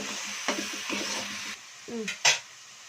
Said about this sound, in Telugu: ఇదంతా కొంచెం బాగా కలుపుకొని ఉల్లిపాయ ముద్దతోటి బాగా మంచి కలర్ వచ్చేదాకా వేయించుకున్నామండి